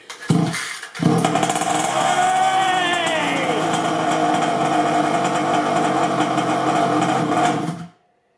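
Rovan F5 1/5-scale 4WD 36cc petrol on-road RC car engine started for the first time: a few short sputters, then a loud, close, buzzing two-stroke idle with a brief rev that holds steady before cutting off abruptly.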